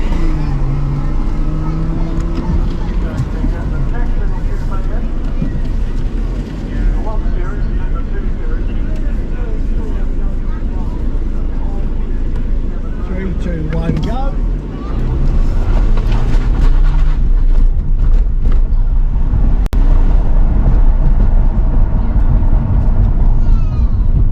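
A BMW 1 Series diesel car with a turbo pulls hard up a hill climb course, its engine a steady loud drone with brief wheel spin, while a driver talks over it throughout.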